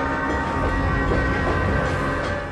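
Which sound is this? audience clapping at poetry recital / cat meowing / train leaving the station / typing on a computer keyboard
train leaving the station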